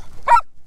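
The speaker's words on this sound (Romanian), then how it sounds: "Aici ne așteaptă din nou câinii." A single dog bark close by at a mountain sheepfold in the Bucegi-Baiului uplands, one sharp loud yap standing alone against a quiet outdoor background.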